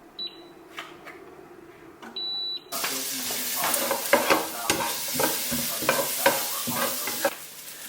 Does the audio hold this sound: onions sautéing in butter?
yes